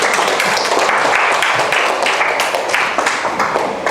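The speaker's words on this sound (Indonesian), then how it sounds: "Oke, tepuk tangan dulu untuk tamanya." A classroom of students in an Indonesian high school applauds a classmate, loud steady clapping from many hands filling the room with no pauses.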